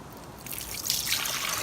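Coconut water is poured into a blender jug, a short trickling, splashing pour that grows louder and fuller, close and faint, with no talking.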